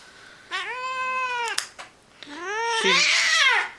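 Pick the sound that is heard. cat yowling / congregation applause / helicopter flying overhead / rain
cat yowling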